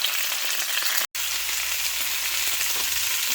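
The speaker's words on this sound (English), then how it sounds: "So right now, we're just frying them a little bit." Beef strips for bistek frying in a pan of oil, a continuous close crackling sizzle that drops out for a split second, then carries on steadily without speech.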